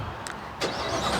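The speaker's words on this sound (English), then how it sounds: "That's the sound of a 700 horsepower" A 700-horsepower V8 in a 2023 Ford F-150 Raptor R fires up by remote start: a brief starter whine, then the engine catches with a loud roar that settles into a rumbling idle nearby.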